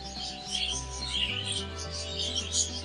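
Texas ClearBody budgerigar chicks in a nest chirp and cheep in a busy, overlapping chorus of high calls, close by, while a person talks over them.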